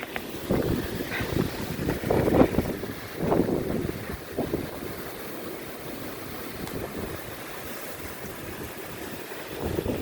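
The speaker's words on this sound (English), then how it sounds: "As you can see, the snow is blowing around quite a bit." Blizzard wind blowing snow around outdoors, a steady roaring gust with buffeting against the microphone, strongest early and then settling into a constant rush.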